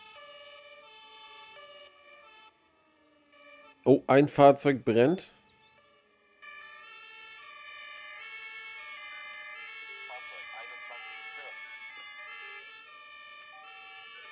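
A German fire engine's Martinshorn siren blares en route to a vehicle fire, a sustained two-tone call heard before and after a brief pause while someone speaks, then resuming steadily.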